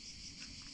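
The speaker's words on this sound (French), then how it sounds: "nos cigales qu'on entend" Cicadas singing outdoors in the French countryside on a summer day, a steady dense high-pitched drone that holds without a break at low level, with no voices over it.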